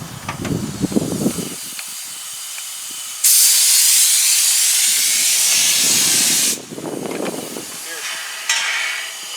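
A hissing sprayer blasts Synergy in a loud steady jet lasting a few seconds during a 2022 mausoleum build, with a shorter burst near the end; muffled voices and handling noise come before and after.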